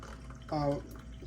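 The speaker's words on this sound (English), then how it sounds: "So, I'm gonna pour me a hot cup of tea." Hot hibiscus, elderberry and ginger peach tea is poured from a teapot into a cup, a short splashing pour of about a third of a second over a quiet room background.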